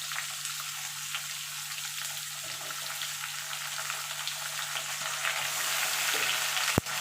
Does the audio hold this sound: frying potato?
yes